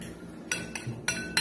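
A spoon knocks against the side of a bowl while vegetable toast ingredients are mixed, producing four sharp clinks at uneven intervals over quiet background, close up and without speech.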